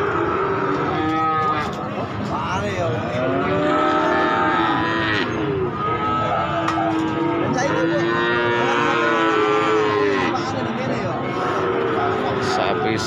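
Young Simmental cattle moo repeatedly at a cattle market, several animals calling in long, drawn-out lows amid a busy outdoor crowd with voices in the background.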